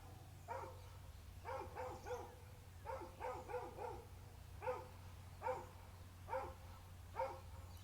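A dog barks at a passing car outdoors, a series of single and double woofs spaced across several seconds over a steady low background hum, moderately distant.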